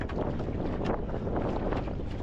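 A strong gust of wind sweeps over open water while a rower is out in a boat, a loud, roaring rush of buffeting air against the microphone that holds steady throughout with no speech.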